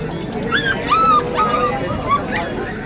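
A dog at a pet market whimpers and whines in a few short, high, drawn-out cries, fairly close, with faint voices in the background.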